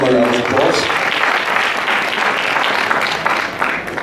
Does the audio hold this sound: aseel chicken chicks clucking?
no